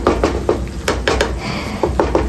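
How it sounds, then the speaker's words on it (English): A spoon scrapes and knocks against a pot while Ghana shito with shrimp powder is stirred, giving irregular clanks and scraping strokes, close and loud, with no talking. "We keep stirring."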